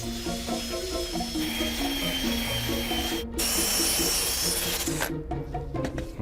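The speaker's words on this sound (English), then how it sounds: "So now we'll shape this with the sander." A power sander shapes a piece of pine for a horn, a close, high whining buzz running steadily, with a brief cutoff and a second burst as the tool is lifted and reapplied.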